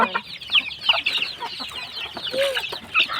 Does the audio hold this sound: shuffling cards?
no